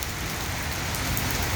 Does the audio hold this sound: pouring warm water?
no